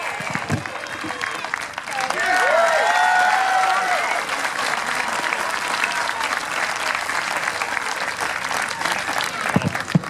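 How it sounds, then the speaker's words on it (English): Spectators at the Peak District Highland Games give a strongman a round of applause, a broad outdoor wash of clapping that swells in the middle with a few cheers, then settles into a long, steady patter. "Thank you very much for your round of applause there for More Strength Scott Moore"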